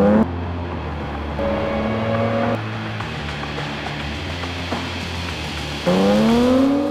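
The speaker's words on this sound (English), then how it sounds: "The sound of roaring engines and the smell of burning rubber." Jaguar cars at the 2017 Jaguar Art of Performance show roar loudly, engines revving up and down through gear changes, with a hard acceleration climbing near the end.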